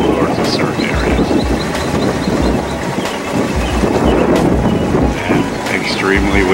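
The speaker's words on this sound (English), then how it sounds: "And extremely windy." Strong wind buffeting the microphone in heavy, rumbling gusts on a fishing boat trolling on the delta, with a low engine drone and some faint speech mixed underneath.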